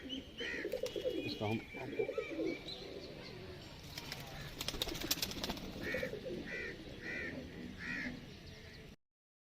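Pigeons coo in soft, repeated rounded calls, several bursts in rhythm, while someone talks nearby over some background rustling.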